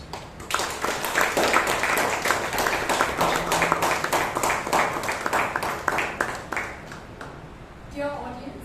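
Audience applause at a Bangalore Toastmasters meeting, a dense burst of clapping from a crowd in a hall that holds strongly for several seconds and then tapers off.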